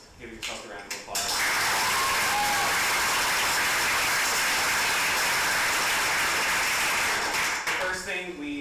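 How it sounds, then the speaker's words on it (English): A large audience at a law school tournament final round breaks into loud, sustained applause that swells into a dense roar and holds for several seconds before tapering off. "give yourself a round of applause"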